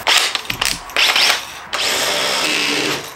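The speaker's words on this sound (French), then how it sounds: "pour pas faire d'éclat dans le mélaminé quand on perce, il faut que ça tourne très vite" A power drill spinning at high speed bores into melamine board for a WC cabinet, with short whining bursts, a pause, then a longer steady drilling run, all loud and close with no talking.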